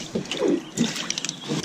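Water trickles and sloshes inside the hull of a leaking Ozark Trail Pro Angler 12 fishing kayak, with short irregular gurgles and splashes heard close up.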